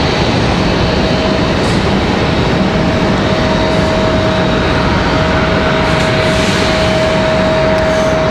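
An Aeromexico airliner taxiing on the taxiways at Raleigh-Durham International Airport, a steady loud engine roar with a sustained whine running throughout, no voices.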